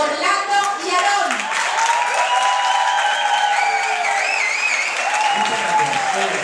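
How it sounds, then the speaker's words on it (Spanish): Audience at a live show applauds two performers; sustained clapping fills the clip, mixed with tonal music or voices and a shout or two carrying over the crowd. "Quiero un fortísimo aplauso para Orlando y Aarón."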